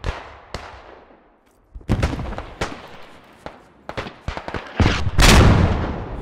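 Gunfire in the trench warfare game Beyond The Wire: irregular loud bursts and sharp cracks, a machine gun among them, with sporadic shots giving way to a dense, heavy volley near the end.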